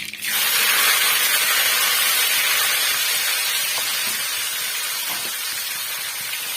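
Ground onion, garlic and curry leaves go into hot oil, setting off a loud sudden burst of spitting sizzle that settles into a steady hiss and slowly fades a little.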